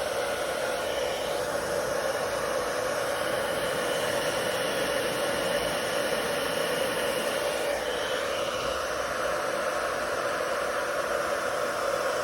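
A hair dryer blows steadily over an acrylic Dutch pour painting, a constant airy hiss that runs loud and unbroken for the whole stretch with no talking.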